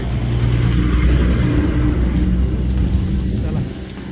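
A vehicle bound for Kusumbi pulls in along a busy Sunday road, its engine loud and close with a steady rumbling drone that eases off near the end.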